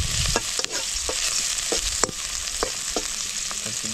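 Ginger sizzling in a pan while being stirred briskly, a loud continuous fry with sharp repeated scrapes and taps of the spatula at an uneven rhythm, close up with no voices.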